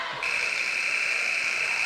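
Loud, sustained electronic buzzer ending a period at a women's college basketball game against Johnson University Tennessee. It sounds as one steady, unbroken tone that starts abruptly after a brief moment and holds to the end over faint gym ambience.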